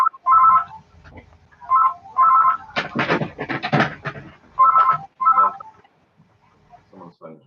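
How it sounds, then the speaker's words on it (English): A mobile phone rings during a talk, sounding as repeated bursts of a bright electronic ringtone with short gaps between them, while a voice talks over part of it. "Someone's phone's ringing."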